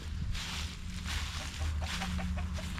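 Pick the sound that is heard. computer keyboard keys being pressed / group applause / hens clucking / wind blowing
hens clucking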